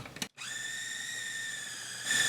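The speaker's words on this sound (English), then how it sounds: "I'm going to pulse it just a little bit more." Keto rum ball mixture being pulsed in a food processor: a steady high motor whine runs for about two seconds after a short burst and brief pause, close and fairly loud, with no talk.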